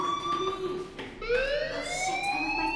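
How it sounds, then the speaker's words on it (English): In the video game Life is Strange, a fire alarm wails with a rising, siren-like tone that sweeps upward and holds, loud and steady with no voices over it. "Hey, do you hear that fire alarm?"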